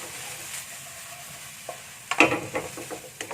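A spatula scrapes and clatters through stir-fried green beans with dried shrimp and scrambled egg in a pan, quiet at first, then a busy burst of clanks and scrapes under a soft sizzle, with no voices.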